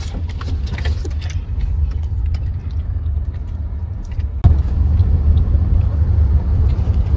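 Steady low rumble from inside a moving car carrying a family, loud and continuous, with a sharp knock partway through before the drone resumes.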